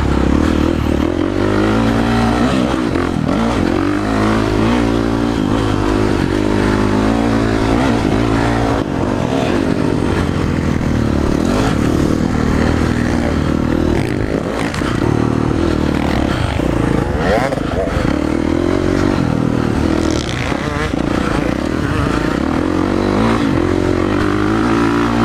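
A motocross dirt bike engine drones and revs continuously during practice laps on a track, loud and close with steady rising and falling throttle and some rattling.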